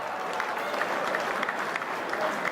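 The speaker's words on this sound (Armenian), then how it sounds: "Բարձր ծափարենք մեր Հոպարի" Steady wedding-party applause from many guests, a continuous patter of hand claps at even loudness with crowd murmur mixed in.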